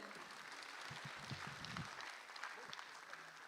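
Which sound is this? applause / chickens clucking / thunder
applause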